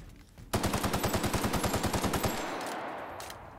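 Rapid automatic fire from a light machine gun in the Outer Worlds game, a quick burst of about twenty evenly spaced loud shots that stops abruptly, followed by a fading echo.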